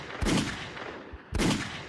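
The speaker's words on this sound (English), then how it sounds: "Listen to those gunshots." Two loud gunshots ring out about a second apart, each a sharp blast with a short echoing tail.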